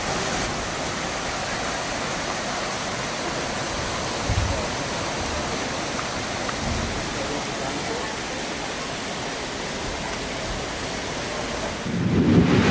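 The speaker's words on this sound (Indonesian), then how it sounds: "Anginnya kencang dan petir juga teman-teman." Heavy rain and strong wind roar continuously as a dense wash of noise, with a couple of low thunder rumbles and a louder gust near the end.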